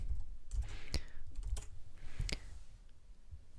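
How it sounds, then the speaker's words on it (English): Keys pressed on a computer keyboard while editing code in Emacs, heard as a quiet, close series of irregular clicks and taps with short pauses between them. "Notice that the keys I'm pressing is in the lower right hand corner."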